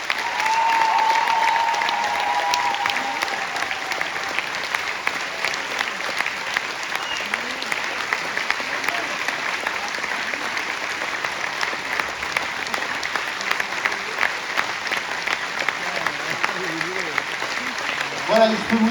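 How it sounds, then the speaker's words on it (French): Audience applause for two dance choreographers at a show in Challans, a dense, sustained crowd clapping that runs steadily for the full length at a fairly loud, even level. "Vous pouvez donc les applaudir très fort, les deux chorégraphes,"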